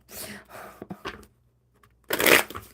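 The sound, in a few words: shuffling tarot cards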